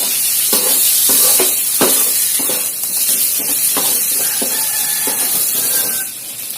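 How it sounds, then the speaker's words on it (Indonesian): Steady sizzling of pork frying in a pan with spices, with repeated scraping strokes of stirring at an uneven rhythm, close and fairly loud. "Masukkan daging, teman-teman. Aduk sebentar sampai bumbu tercampur."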